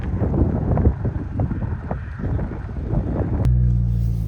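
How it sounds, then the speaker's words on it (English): Strong wind blows over sand dunes at Sand Hollow, buffeting the microphone with loud, low rumbling gusts, and a steady engine-like drone begins near the end. "it is very windy out here"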